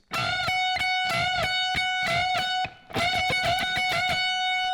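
Electric guitar plays a slow phrase of unison bends on the first string, sustained and ringing, with a brief pause midway; loud and clear with no voices.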